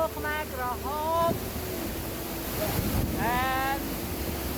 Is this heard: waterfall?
yes